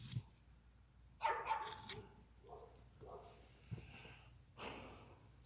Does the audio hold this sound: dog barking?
yes